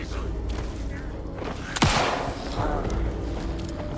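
Rapid bursts of gunfire in the video game Alan Wake 2, with a sharp loud shot in the middle, over a constant rumbling background.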